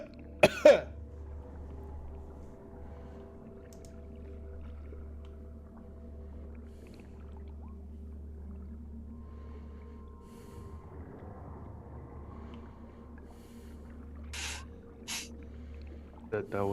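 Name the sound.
someone coughing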